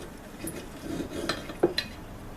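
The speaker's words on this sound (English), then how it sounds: "Got a knife and fork here. Cut that piece off." Knife and fork scraping and clinking on a plate while cutting a piece off a cooked beef steak chasseur, a few soft scrapes and two sharper taps, close and fairly quiet.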